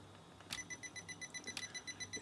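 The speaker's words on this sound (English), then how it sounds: "The beeping noise is battery check, so that confirms that the batteries are working." A Canon T50 film camera gives its battery-check beep, a faint, steady high electronic tone that pulses rhythmically for about two seconds over a low background hum.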